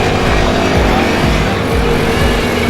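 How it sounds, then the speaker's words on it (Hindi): Road traffic on Raiwind Road in Lahore gives a loud, continuous roar of engines and tyres, with passing vehicles and motorbikes swelling close by without pause. "रायविंड रोड पे ये राइट साइड से लाहौर से ट्रैफिक आ रही है"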